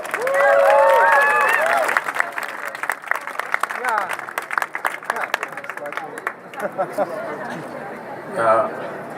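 A crowd at an Amsterdam street demonstration applauds and cheers for a speaker, with loud clapping and whistles at first, then thinning into scattered claps and chatter as people keep talking.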